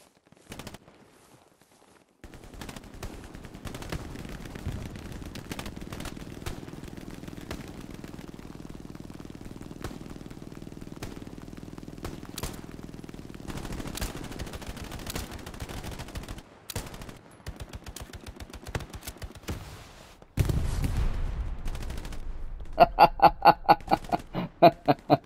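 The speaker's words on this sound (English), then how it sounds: "Hundred meter handgun shot." Gunfire in the World War II shooter game Hell Let Loose, with scattered distant shots and crackling bursts over a low engine hum, then a sharp cluster of pistol shots near the end.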